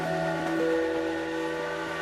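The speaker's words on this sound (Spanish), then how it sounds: "Hoy la centenaria locomotora Aurrera silba acorralada entre Azpeitia y Cestona" The century-old Aurrera steam locomotive on the Urola railway between Azpeitia and Cestona sounds a long, steady, tonal whistle, loud and sustained throughout.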